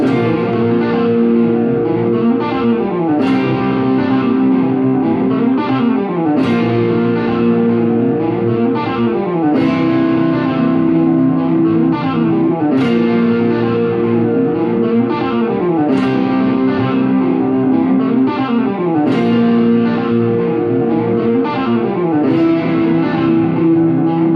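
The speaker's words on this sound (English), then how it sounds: "here's the guitar part, and then you hear those synth chords" Distorted electric guitar plays a repeating riff over sustained synth chords, loud and steady throughout, with a washy, effects-heavy texture.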